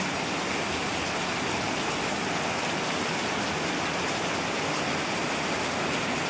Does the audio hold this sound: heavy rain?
yes